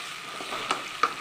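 Brinjal pieces and curry leaves sauté in oil for bisi bele bath, a steady close sizzle with two brief stir clicks, no talk.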